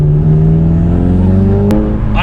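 A Volkswagen MK7 GTI or Golf R fitted with an aftermarket turbo inlet accelerates hard. The engine gives a loud, steady drone that climbs in pitch, heard close from inside the car.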